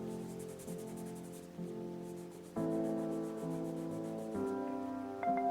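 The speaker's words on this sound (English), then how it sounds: "Just kind of rubbing this out." Charcoal being rubbed out on a portrait drawing gives faint, close, repeated soft rubbing strokes against paper, quiet and alone.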